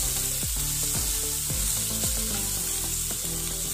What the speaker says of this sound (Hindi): इसे फ्राई करेंगे।